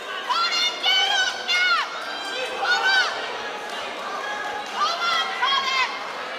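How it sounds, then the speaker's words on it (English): MMA crowd at King of the Octagon shouting advice to a fighter on the ground, excited raised voices calling out in repeated loud bursts over a steady arena murmur. "Bit of constructive advice coming from the crowd"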